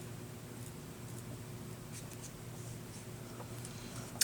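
A pencil writes on paper, a faint, soft scratching with a few short strokes rising slightly above a quiet, steady background; no speech.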